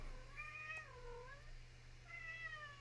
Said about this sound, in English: if you can hear, I got my cat in here meowing at me